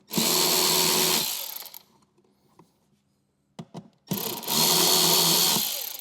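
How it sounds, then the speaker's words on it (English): Power tool driving screws into the bag lid of a Harley CVO Street Glide: two loud, sustained whirring runs with quieter handling clicks in between, close up and with no talking. "We're just going to start the 2 middle screws here on our bag first."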